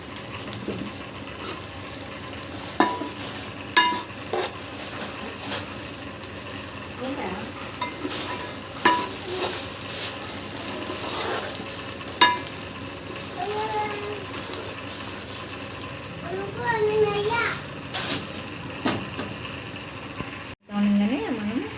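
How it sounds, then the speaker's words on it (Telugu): Onions and green chillies fry in a pan, giving a steady sizzle with intermittent stirring scrapes and clinks, and a brief spell of running water near the end. "ఉల్లిపాయలు పచ్చిమిరపకాయలు వేయించేస్తున్నా."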